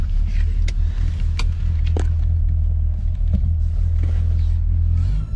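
The engine of a classic car, a Fiat 125P or a Morris Minor 1000, rumbles steadily close by, its low idle joined by a few sharp clicks and clatters.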